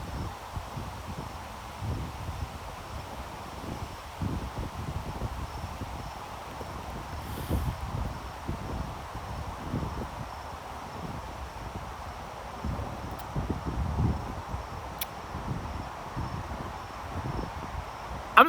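Strong wind gusting outdoors, a steady rushing roar that buffets the microphone in low rumbling surges over about eighteen seconds, with no talk.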